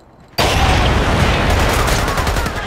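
A grenade blast in the stealth shooter Splinter Cell: Conviction sets off sudden, loud explosive noise that rolls straight into sustained rapid gunfire, filling the rest of the stretch without pause after a brief quiet start.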